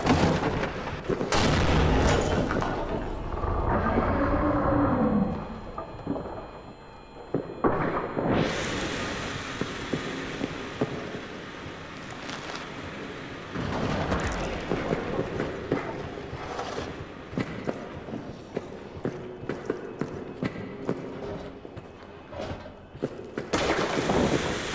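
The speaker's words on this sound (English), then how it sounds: "I step over a grenade trap and explode" A grenade trap goes off in the horror game Amnesia: The Bunker, with heavy booms and thuds set among tense game noise, followed by a broadband rush and a long run of scattered impacts.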